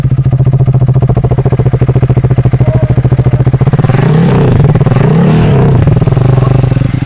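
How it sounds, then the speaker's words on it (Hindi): A 2024 Triumph Speed 400 motorcycle idles close by with a loud, even thumping beat, then the rider blips the throttle into a couple of rising and falling revs. "चलिए, बाइक का इंजन ऑन हो चुका है, अभी सुन लीजिए बाइक का।"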